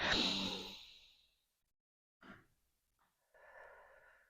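Slow, gentle breathing in through the nose during a guided relaxation exercise: a strong, breathy rush at the start, then a brief faint puff, and a softer, steady airy draw near the end, close and with no talk.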